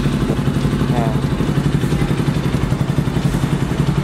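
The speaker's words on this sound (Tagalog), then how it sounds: "So, paanda rin ko muna yung motor." A Bajaj Rouser NS200 motorcycle engine runs at a steady idle after carburetor tuning, giving a loud, even, pulsing rumble close by throughout.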